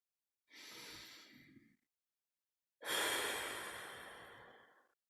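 Two slow, deliberate breaths, a shorter exhale and then a longer, fuller one, soft and close during a breath-counting focus exercise, with silence around them.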